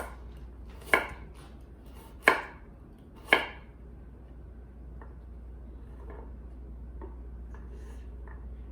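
A knife chops vegetables for a black bean burger on a cutting board. Three sharp, loud knocks land about a second apart, followed by several fainter, scattered taps over a low steady hum.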